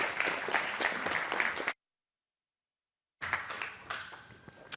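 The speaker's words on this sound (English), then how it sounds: "OK, so could you give a warm round of applause to John Forster, please?" Audience applause at the OECD Forum 2017 welcomes a speaker to the stage: steady, dense clapping from a hall crowd that cuts off abruptly into a silent gap, then resumes.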